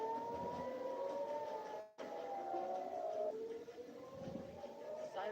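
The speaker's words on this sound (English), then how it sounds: "Sirens erupt across cities." Air raid sirens wail across cities during an Iranian missile barrage, with several rising and falling tones overlapping at moderate distance and a brief dropout partway through.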